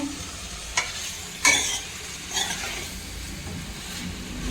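A steady hiss of spices sizzling in hot oil, close by, as tempering for patra (stuffed colocasia leaf rolls), with a few brief scraping clicks of stirring and no voices.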